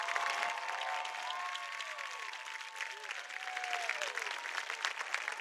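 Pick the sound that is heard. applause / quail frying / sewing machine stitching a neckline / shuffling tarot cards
applause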